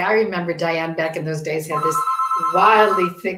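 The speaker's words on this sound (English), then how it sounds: "sorry for my phone in the background." A phone rings in the background under continuous talking, its tone breaking through between phrases.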